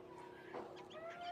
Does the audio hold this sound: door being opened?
no